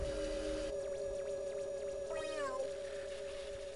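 A cat in the Mother 3 video game gives a single short meow that bends downward, heard over steady, droning game music.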